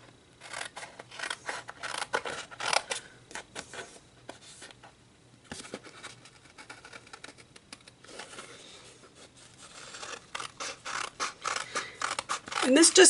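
Scissors snipping through paper layout sheets from a monthly Homegrown subscription box, a run of crisp close cuts with short pauses and rustling paper, busiest near the start and again toward the end.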